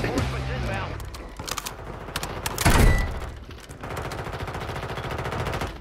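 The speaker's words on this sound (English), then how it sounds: "Ah, I missed a shot." Rapid bursts of automatic gunfire from an online battle-royale shooter on Rebirth Island, dense and loud with a heavy blast near the middle, while players talk over the action.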